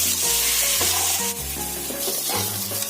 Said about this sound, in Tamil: நல்லா வதக்கிக்கோங்க. நல்லா வெங்காயம் வந்து ப்ரௌனிஷாக ஆகணும்